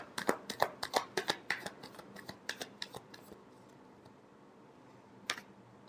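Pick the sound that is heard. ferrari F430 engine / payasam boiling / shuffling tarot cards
shuffling tarot cards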